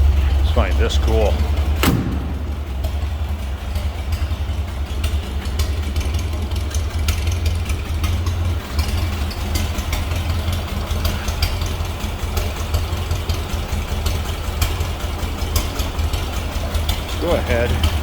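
A 1929 Ford Model A Coupe engine idles steadily at close range, a low continuous rumble with a sharp knock near the start, while people talk over it.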